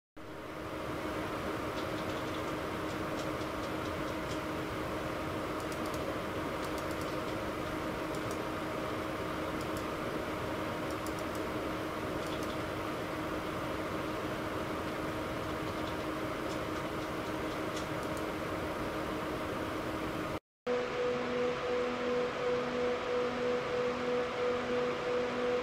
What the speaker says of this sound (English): while my system is idling, I do notice that these Noctua fans sound a little bit quieter than